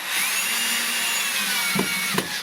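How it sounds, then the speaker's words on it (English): A power drill drives a screw into a wall stud while shelving made from plumbing pieces is installed, a close, steady whirring run for about two seconds with a couple of sharp knocks near the end. "Your drill is going to have to exert a little bit of force to go in"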